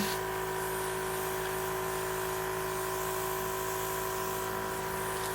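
Airbrush spraying eyeshadow onto the brow bone, a continuous faint hiss over a steady compressor hum lasting throughout with no talk.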